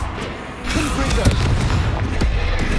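Confringo fire-blast spell in Hogwarts Legacy, cast during a fight with a troll, a loud booming explosion with a crackling, rumbling burst that carries on as dense noise.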